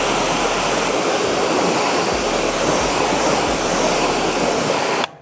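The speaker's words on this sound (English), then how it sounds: "all that's left to do now is rinse that wheel off." A continuous, loud rushing spray of water rinsing off a car's alloy wheel, steady and close for about five seconds before it cuts off abruptly; no talking.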